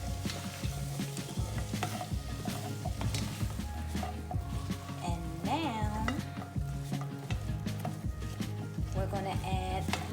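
Sweet potatoes are stirred into a stew mixture in a pot, giving continuous scraping and sizzling with clinks of a utensil against the pot and brief speech in the background.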